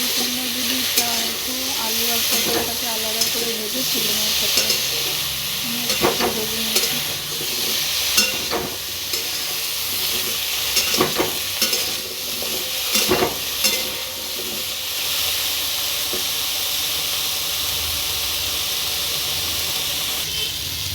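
Pointed gourd and potatoes frying in a pan, a loud sustained sizzle and hiss with repeated scraping and clattering as a spoon stirs them through the oil.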